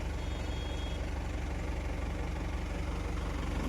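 A tractor engine idles on a narrow village road, a low, steady rumble held at moderate distance with faint background hum and no voices.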